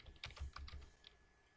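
Keys clatter on a computer keyboard in a quick burst of about half a dozen light clicks, soft and close, before the sound trails off into quiet room hiss.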